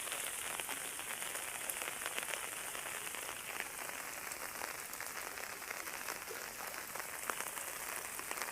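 Steady rain pattering on a surface, a dense, even hiss of drops that holds throughout without pause or voices.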